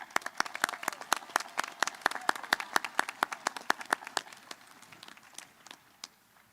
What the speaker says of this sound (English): can we have one last round of applause